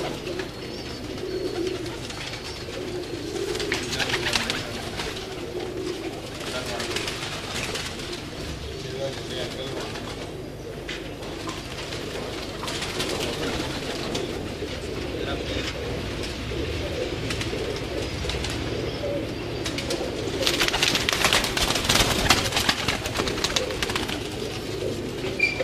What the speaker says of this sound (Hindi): ये जी एक और शानदार कबूतर आया, ये देखें।